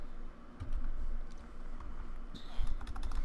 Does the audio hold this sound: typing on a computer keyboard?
yes